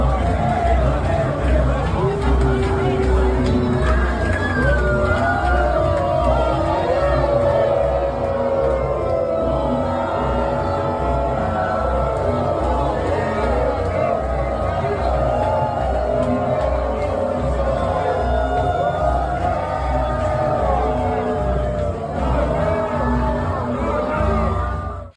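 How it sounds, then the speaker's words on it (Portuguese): Large carnival crowd in the Sapucaí sambadrome stands, a dense, continuous roar of many voices with jeers and shouts, loud and sustained throughout without a break. "Lula foi vaiado na Sapucaí"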